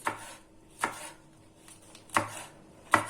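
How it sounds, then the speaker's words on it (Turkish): Four sharp knife chops land on a cutting board through somewhat tough peppers at an uneven, unhurried pace, quiet and close with no talk. "Bu şekilde biberlerimizi doğramaya devam ediyoruz."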